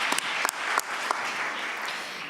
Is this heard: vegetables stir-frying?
no